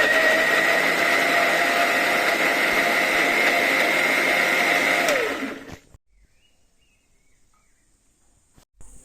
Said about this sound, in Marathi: आता आपण टोमॅटोसुद्धा वाटून घेऊया बारीक त्याचीसुद्धा प्युरी करूया